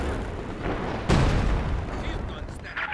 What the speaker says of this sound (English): Double ISG barrage takes out the mortar